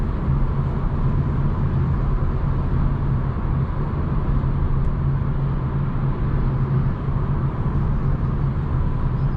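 A 2021 Hyundai Elantra N Line cruising on the road, heard from inside the cabin as a steady, loud low rumble of engine and tire noise that stays constant throughout, with no speech over it.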